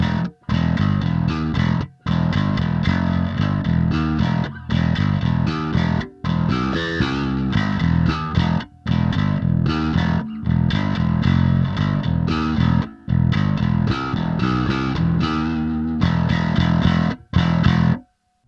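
A bass guitar plays a driving riff through a Boss DS-1 distortion pedal with clean blend and pre-boost, heavy and gritty, loud and continuous with brief gaps between phrases.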